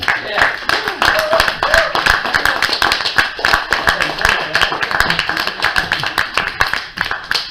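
An audience at a French-language poetry reading claps in a lively, uneven burst of close, crisp handclaps, while voices speak over the applause.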